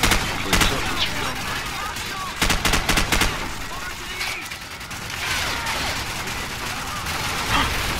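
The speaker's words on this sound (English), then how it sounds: "Sniper rifle, man." Gunfire in the video game Call of Duty 4, where sharp repeated shots burst out in quick clusters, loud and close, with game noise filling the gaps.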